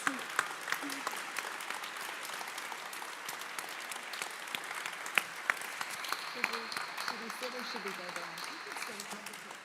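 An audience at a Holocaust Remembrance Day commemorative program claps steadily in a sustained round of applause, fairly faint and even, with a voice speaking over it toward the end.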